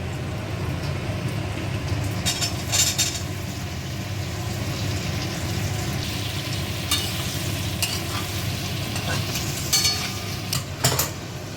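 Young jackfruit goes into a pan for a Bengali vegetarian curry, cooked alongside fried potatoes, with a continuous sizzle and frying hiss and a few sharper scrapes of stirring, steady and close.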